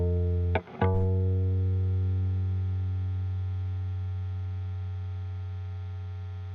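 A low, droning synth tone with a slow pulsing wobble, briefly interrupted by two sharp clicks near the start, then sustaining and gradually fading.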